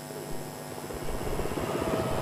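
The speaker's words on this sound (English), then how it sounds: "That is the security helicopter." A security helicopter comes down onto a sports pitch during a Ghana Independence Day anniversary parade in Cape Coast, its rotor chop building into a loud, rhythmic thudding whir up close.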